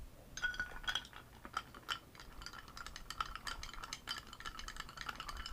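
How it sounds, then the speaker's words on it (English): A half ounce of Gosling's dark rum being stirred with ice in a glass for a cocktail, giving a steady close run of light clinks and rattles throughout, with no talking. "You want to give that a little bit of a stir."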